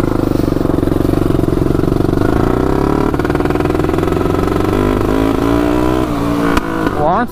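A turbocharged Honda 400ex ATV engine revs hard and steadily, its loud mechanical drone rising in pitch through the first seconds, then holding high before easing off and dipping near the end.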